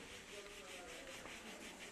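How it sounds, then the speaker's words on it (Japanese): Sandpaper rubs rhythmically over thinned Owase hinoki chopsticks as their corners and tips are rounded, a soft repeated scratching stroke, faint and close, with a murmur of voices in the background. "配られたキットを使って紙やすりで角や先端に丸みをつけるように磨き上げ"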